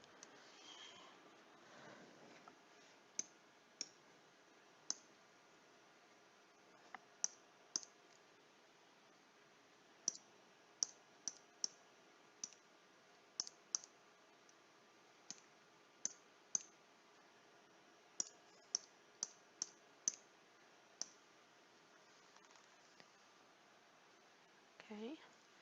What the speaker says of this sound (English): And type that in the calculator.